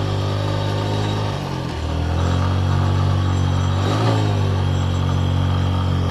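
A TVS Metro 110cc motorcycle labours up a steep hill road in first gear, its engine droning loud and steady close by, the pitch dipping briefly and then rising again as it strains.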